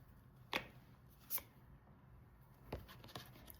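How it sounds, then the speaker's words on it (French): Tarot cards are drawn one at a time from a deck: a few soft, crisp card snaps and slides, quiet and close, spaced apart with a pause between them. "On va tirer 3 cartes."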